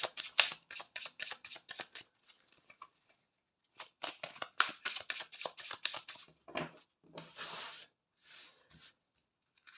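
A mirror oracle deck is shuffled by hand in repeated bursts of crisp riffling card flutters, each lasting a second or two with brief pauses between, close and clear with no talking.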